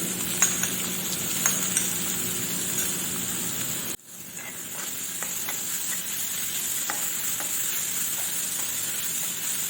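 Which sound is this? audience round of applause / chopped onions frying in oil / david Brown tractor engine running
chopped onions frying in oil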